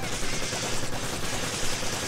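A machine gun fires in Resident Evil 5 as a dense, loud, continuous rattle of rapid shots with no break, the bursts blending into a harsh wash of gunfire.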